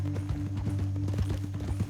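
Horse hooves in Red Dead Redemption 2 clip-clop in a steady, even walking rhythm, close and clear over a low rumbling game background, with no talking.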